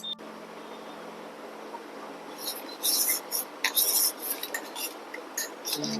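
A spoon stirs two tablespoons of dried mango powder into a glass of water, giving light, irregular scraping and clinking taps that grow busier toward the end, close and fairly quiet.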